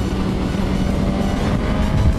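Suzuki GSX-S1000 motorcycle engine pulling above 6000 rpm, a loud, steady, close engine drone with road and wind roar that holds throughout, with no talking.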